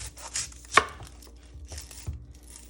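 A knife cuts onions into quarters on a board, giving a few sharp chopping knocks with one loud thunk, close and without speech.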